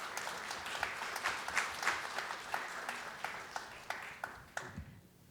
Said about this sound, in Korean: 박수로 모실게요.